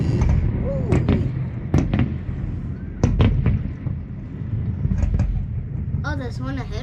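Fireworks at a 100th birthday celebration, several sharp bangs and crackles scattered irregularly over a noisy outdoor background, some near and loud, with a whistling burst near the end.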